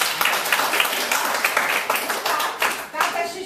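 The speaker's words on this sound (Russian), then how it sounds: "И это 2 минуты, аплодисменты." Lively audience applause at a Karl Popper debate training session, steady dense clapping from a room of people, close and loud throughout without a break.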